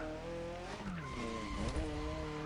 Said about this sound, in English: this thing does sound absolutely aggressive, just revving.